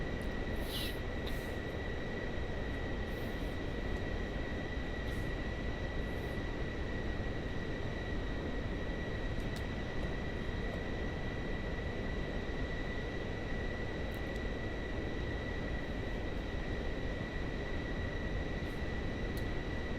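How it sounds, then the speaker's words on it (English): Other airliners idle on the runway in Microsoft Flight Simulator 2024, a steady broadband engine roar with a constant high whine, unchanging and continuous for the whole stretch, no voices. "We have to wait for these other planes to go."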